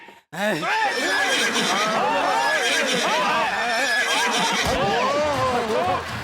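A horse on a comedy show stage neighs loudly in repeated, wavering whinnies that fill the whole stretch, with voices mixed in underneath.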